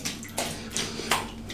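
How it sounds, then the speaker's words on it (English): A razor rinsed under running water, with short splashing gushes in a quick rhythm of about four pulses over a steady close flow. "Let me rinse."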